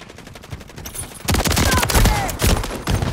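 Video game gunfire in a slug-round shotgun match: quiet rattling at first, then a loud sustained burst of rapid shots from about halfway through, with a short gap near the end before firing resumes.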